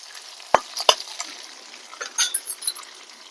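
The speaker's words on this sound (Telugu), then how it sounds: "ఇట్లా దోరగా వేయించుకోవాలన్నమాట" Dry fish frying in oil in a pan, stirred with a utensil: a soft steady sizzle with a couple of sharp clinks and scraping strokes, close up and with no talking.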